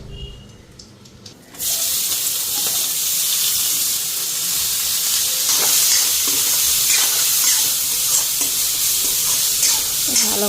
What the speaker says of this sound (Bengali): এদিকে ম্যাগিটা সিদ্ধ করলাম লগে মটরশুঁটি দিলাম আর এখানে বাঁধাকপি কাঁচা লঙ্কা আর পেঁয়াজ কেটে নিছি এগুলি এখন ফ্রাই করে নিই